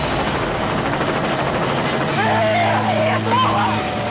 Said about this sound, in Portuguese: O helicóptero foi atingido!